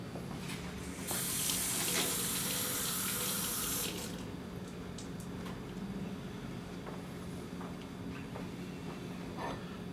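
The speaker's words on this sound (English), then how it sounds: "I'm going to go over to the sink behind me and just get it wet with water" A sink faucet gushes water over a floor sponge for about three seconds, a loud bright hiss that stops abruptly, leaving quieter room sounds and light clicks.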